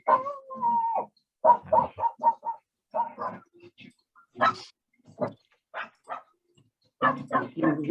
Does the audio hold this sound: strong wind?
no